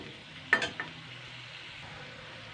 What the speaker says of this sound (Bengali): এটা একটু হালকা নেড়ে চেড়ে নিলাম।